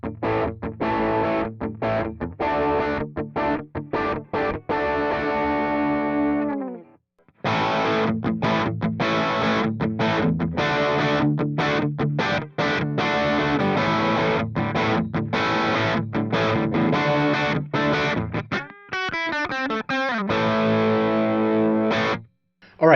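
Electric guitar played through a Nux MG-300 multi-effects unit with blue 212 and Laney cabinet impulse responses, heavily distorted and loud, with steady chugging rhythm, brief pauses, and a ringing, sliding passage near the end.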